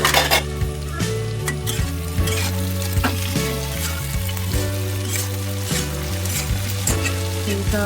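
Ginger paste and green chillies frying in hot oil for a village-style chickpea curry, a steady close sizzle with spatula scrapes and occasional clinks of a metal pan throughout.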